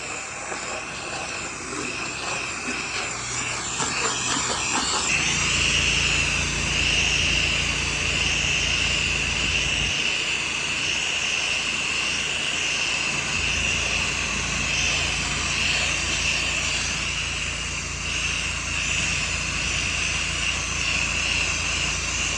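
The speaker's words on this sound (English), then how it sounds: "here's the DS Twist in its tightest pattern as we rinse the back side of this home" A pressure washer fitted with a DS Twist nozzle in its tightest pattern rinses the back of a house, a steady loud engine drone and high spray hiss that kicks in after a few seconds and runs without a break.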